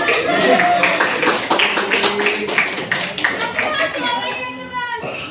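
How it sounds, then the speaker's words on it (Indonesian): Classroom clapping for group 1 during an Indonesian language lesson, a steady patter of hands mixed with children's voices and a teacher talking throughout. "Tepuk tangan untuk kelompok 1 dong"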